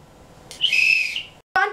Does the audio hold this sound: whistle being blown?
yes